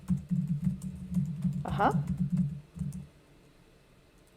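Typing on a computer keyboard: a quick run of soft, close key clicks that stops partway through, with a brief spoken interjection over the keys.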